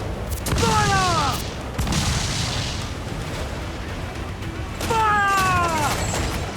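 Ship cannons boom from a pirate vessel in a naval battle in Assassin's Creed IV Black Flag, two loud blasts several seconds apart over a steady roar of sea and wind, with a voice shouting orders.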